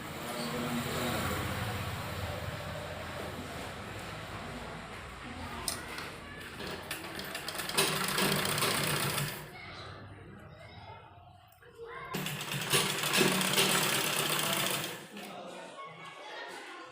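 A sewing machine stitches fabric loops onto a kurti in several close, steady runs, pausing briefly between bursts, with a voice talking over parts of it.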